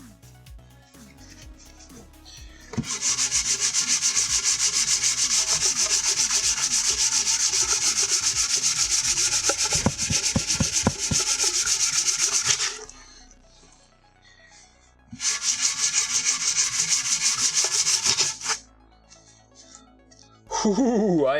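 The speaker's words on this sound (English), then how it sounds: "So we're gonna sand some more." Sandpaper rubbed hard by hand across a surface in a garage, the paper wearing out as it goes; loud, steady scraping strokes in two long bursts separated by a brief pause, close up with no talking.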